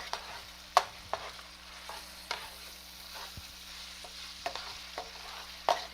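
Sausage for a creamy pasta soup sizzles softly in a pan, with several sharp scrapes and taps of a utensil stirring it at irregular moments, no talking.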